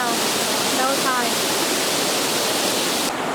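Loud, steady rush of a waterfall, broad roaring water noise with a faint fleeting voice-like warble early on.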